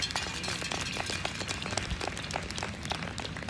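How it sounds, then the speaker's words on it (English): A crowd at an outdoor protest applauds the speakers, with dense scattered clapping that stays steady throughout at a moderate distance. "I want to give another applause to everybody who came up and spoke"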